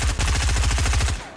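Gunfire in the video game Fortnite: a rapid, evenly spaced automatic burst of about fifteen shots, loud and close, continuing steadily before cutting off at the end.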